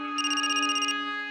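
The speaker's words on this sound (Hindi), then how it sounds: "ये आ गया फोन बंधु का।" A telephone rings in one sustained bright electronic trill that lasts about three-quarters of a second over a steady tonal hum, with no talking.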